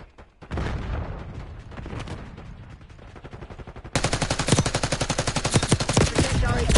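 Gunfire in a Call of Duty Black Ops 6 multiplayer match on the Babylon map: scattered shots with an explosive thud early on, then a sustained rapid automatic burst that grows loud and dense, with no talk.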